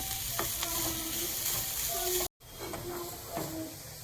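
A filling being sautéed in a frying pan for a papadam snack, with a steady close sizzle and a few scraping stirs, briefly cut to silence midway before the frying resumes.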